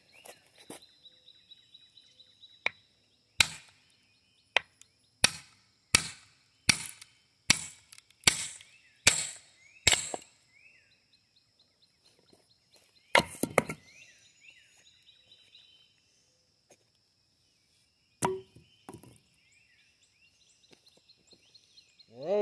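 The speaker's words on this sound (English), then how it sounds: "guess I'm gonna have to use this hammer, to hit it with." Repeated sharp metallic strikes of a hammer hitting an axe, about a dozen evenly spaced blows in a steady run, then a few scattered louder hits later, close and loud with quiet gaps between.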